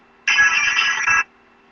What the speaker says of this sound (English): You may hear brief tones or the line may be silent.